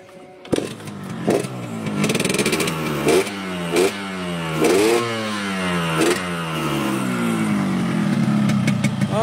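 A green 2003 Air King motorcycle engine sputters to life, then revs in a series of sharp, rising bursts that fall back to idle between throttle blips, close and loud.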